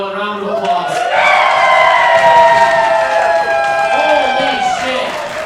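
Roast battle comedy show audience in Denver breaking into loud, sustained applause and cheering, with whoops and shouting voices rising over a continuous crowd roar for several seconds.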